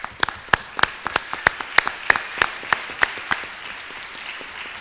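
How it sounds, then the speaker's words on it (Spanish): Sparse, slow applause from a small audience at a Spanish-language book launch on renewable energy, a handful of individual claps in a loose rhythm, fairly close and moderately loud, with no voices over it. "a ellos son a los que hay que aplaudir, de verdad"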